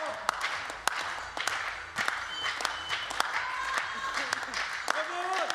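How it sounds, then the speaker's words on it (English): Spectators clap along at a shooting competition final, sharp claps in a loose steady rhythm over a murmuring hall, with a commentator speaking over them. "Crowd clapping along already."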